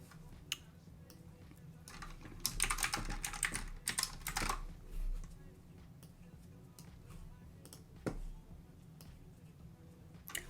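Typing on a computer keyboard, a quiet patter of key clicks in short bursts with pauses between, close and soft under faint room noise.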